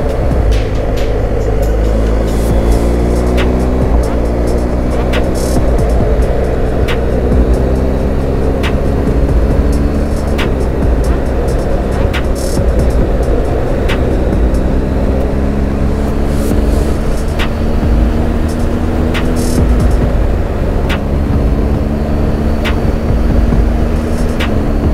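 A BMW GSA motorcycle accelerating hard through first and second gear, heard as a loud, steady engine roar that climbs in pitch repeatedly, dropping with each gear change, under heavy wind rush.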